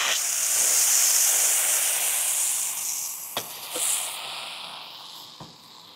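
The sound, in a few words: water hissing on hidden Gaggenau hob, Leidenfrost effect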